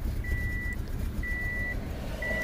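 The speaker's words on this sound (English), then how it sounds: "I'm sorry about the beeping" Evenly spaced electronic beeps, each about half a second long, repeat over a low steady hum in a car workshop during a Subaru misfire diagnosis, clear and close with no talking.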